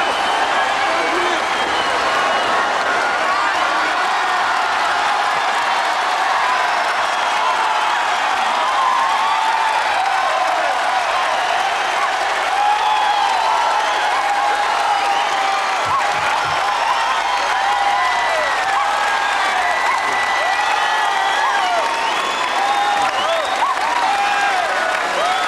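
A packed Royal Albert Hall audience keeps up a long, loud, unbroken wave of applause, with cheering and scattered whistles and whoops riding over the clapping.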